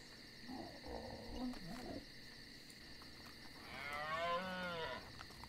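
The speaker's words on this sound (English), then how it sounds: "The Megaloceros have, like, the cow noise?" A Megaloceros in the video game ARK Survival Evolved gives two long, cow-like moos. The calls are drawn out and moderately close, the second one rising and wavering, over a soft ambient game hum.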